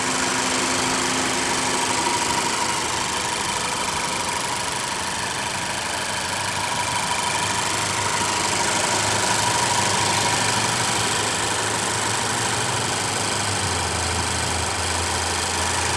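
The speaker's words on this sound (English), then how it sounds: "The Focus is equipped with a 2-liter Duratec 4-cylinder that produces 160 horsepower." A 2012 Ford Focus with a 2-liter Duratec four-cylinder engine runs steadily with a continuous even drone and a faint shift in pitch near the end, with no voices.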